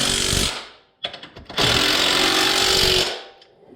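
An impact wrench snugs up bolts while a Warn ProVantage-S 2500 synthetic rope winch is fitted to a 2020 Honda Rubicon, with two loud buzzing bursts split by short stuttering taps, close by and without talk.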